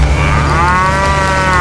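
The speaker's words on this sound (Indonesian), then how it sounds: "Kemudian sapi itu ditambatkan di halaman depan rumah Syekh Ja'far" A cow moos in one long, loud, close bellow, its drawn-out tone dipping slightly in pitch, with no other sounds around it.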